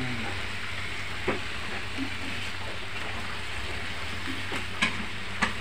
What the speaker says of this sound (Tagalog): Ipa-fry muna natin bago natin lagyan ng mushroom.